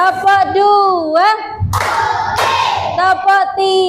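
A class of grade 3 primary school children in an Indonesian classroom clap together in a counting clap game, with a short burst of loud group clapping in the middle and children's and a teacher's voices chanting around it.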